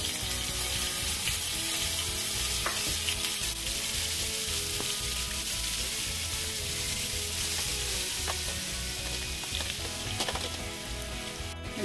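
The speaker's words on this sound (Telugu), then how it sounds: "ఎందుకంటే చికెన్ ఫ్రై అవుతుందండి." Marinated chicken pieces for shawarma fry in hot oil in a pan, giving a loud, continuous crackling sizzle that lasts the whole stretch with no talking.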